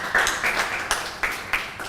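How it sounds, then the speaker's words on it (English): An audience gives a hand clap for a committee chair at a Rotary Club presidential installation. The clapping is short and scattered, with a few louder individual claps standing out, and nobody speaks. "Can we also give him a loud hand clap?"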